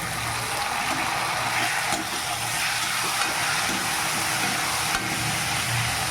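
Tomatoes sautéing with onions, green chilli and curry leaves in a pan for a brinjal curry, a dense, steady sizzle close by with soft stirring movements beneath.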